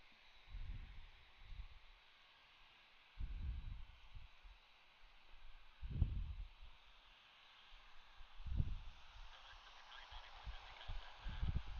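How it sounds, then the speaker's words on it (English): Birds near Anchorage Airport call loudly back and forth in repeated honking bursts every couple of seconds, with quieter background noise in the gaps between calls. "These are the birds that you guys may have been hearing. They keep yelling at each other."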